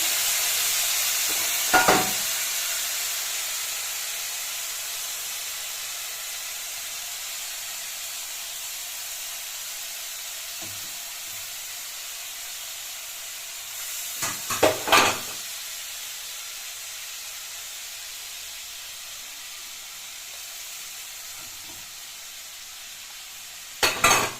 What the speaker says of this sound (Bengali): এবার মশলাটা ভালো করে কষানো হচ্ছে